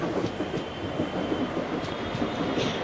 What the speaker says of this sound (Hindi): हमारी ट्रेन आ चुकी है प्लेटफॉर्म नंबर 2 पे।